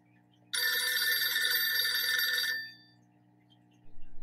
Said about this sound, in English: It is the phone.